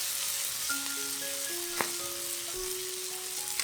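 Vegetarian sea cucumber stir-fried in a pan with vegetarian oyster sauce, a steady close sizzle with light stirring scrapes and a few brief clinks, no voices.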